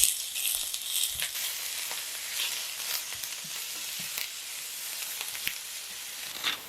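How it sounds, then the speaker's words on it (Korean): Thinly sliced onions fry in a tablespoon of oil in a hot pan, giving a soft, steady sizzle with light crackles and occasional stirring scrapes. "달궈진 팬에 오일 1큰술 두르고 채썬 양파를 넣으세요."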